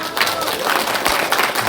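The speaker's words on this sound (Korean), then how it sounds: "이 두 분한테 박수 한번 주세요." An audience claps together at a book launch event in Daejeon, a brief burst of dense, close applause with voices mixed in.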